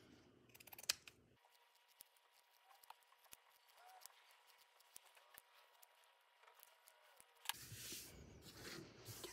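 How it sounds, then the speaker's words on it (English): Pinking shears cut fabric edges with a quiet series of crisp snipping clicks at an irregular pace, close by and faint in a still room. "we first need to make sure that we're pinking our edges so that they aren't going to fray"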